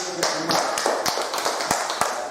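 Students in a classroom clap together, a short burst of loud, close hand claps with a brisk, slightly uneven rhythm for a couple of seconds.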